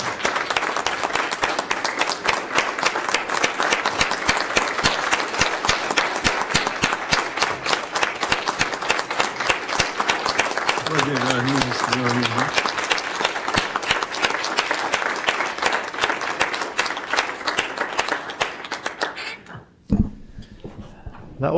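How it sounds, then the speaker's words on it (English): A council meeting audience in Evanston breaks into sustained applause, dense clapping from many hands that continues for about twenty seconds before fading out, with a brief murmur of voices partway through. "That wasn't designed to be an applause line, so there may be a lot more clapping that comes in a moment."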